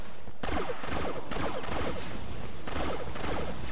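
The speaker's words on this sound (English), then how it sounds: "Oh, it's a Tommy gun." Tommy gun firing in the Star Wars Battlefront 2 game on a modded cave map, loud rapid bursts of automatic fire in three or four long volleys with brief gaps between them.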